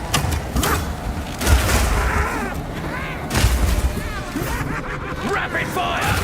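Rapid Shot skill firing in Path of Exile 2, a quick run of booming shots and impacts over dense game noise, with character voices calling out over the combat.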